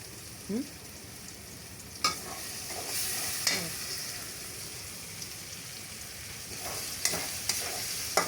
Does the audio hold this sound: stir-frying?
yes